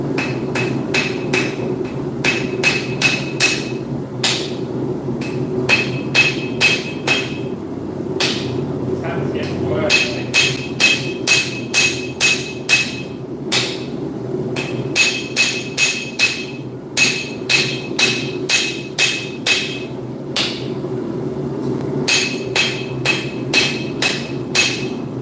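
A hammer repeatedly smacks steel to flatten its ends, sharp ringing blows in quick bursts over a steady shop hum, with talking underneath.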